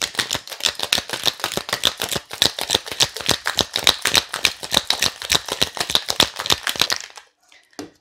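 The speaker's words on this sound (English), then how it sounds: "Now we're going to give this a little bit more of a shake." A Bijou cocktail is shaken hard in a cocktail shaker, with ice rattling in a fast, even rhythm of sharp clacks for about seven seconds before it stops abruptly into near silence.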